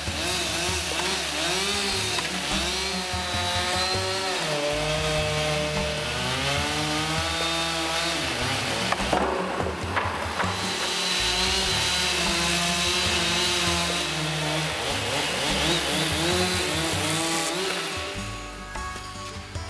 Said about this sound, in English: The excess blocks of wood are removed first, and then each piece is cut to the proper angle.